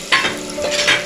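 Cumin seeds hit hot oil in a pan for vegetable biryani, giving a brief, loud, close crackling sizzle with a spoon stirring.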